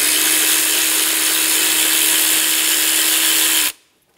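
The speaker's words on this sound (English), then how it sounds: "We're gonna remove this bolt." A power tool, likely an impact driver or drill, spinning a 12 millimeter socket on a bolt of a 2010-2014 Subaru Outback 2.5L H4 in one loud, steady whine that cuts off abruptly near the end.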